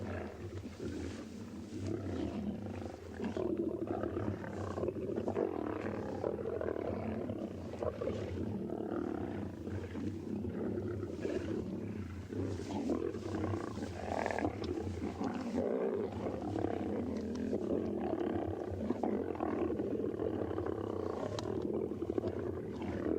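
Lions feeding on a kill give continuous low growls and rumbling roars at fairly close range, with tearing and chewing noises mixed in, over a steady outdoor background.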